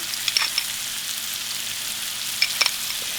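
Flour for hamburger steak gravy cooks in a hot pan with a quiet, steady sizzle and a few small clicks and scrapes from stirring, heard close up.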